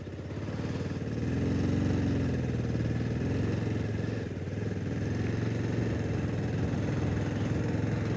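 Motorbike labouring up a steep mountain road between Mangan and Lachen, its engine a continuous, moderately quiet drone that holds a steady, strained pitch throughout.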